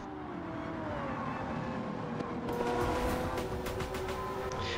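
A 2000 Honda NSX GT500 race car in Gran Turismo 7 on a Tokyo lap, its engine droning steadily at high revs with shifting pitch and a brighter surge midway, heard alone.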